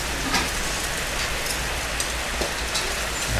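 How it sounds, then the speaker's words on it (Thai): Steady rain falls in a dense, even hiss with occasional louder drop impacts, continuous and close, with no voices, at a Thai fried-rice food stall. "ฝนตก"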